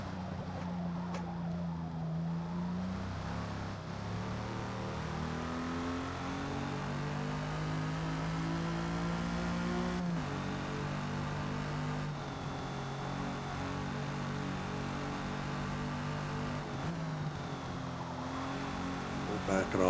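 Race car engine droning near the end of a race, heard from the cockpit as a steady high whine with gear changes and pitch shifts, sustained for twenty seconds.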